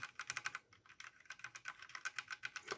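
Fingers type on a quiet full-size computer keyboard, a close, soft run of muted key taps in quick irregular bursts with brief pauses, no voices.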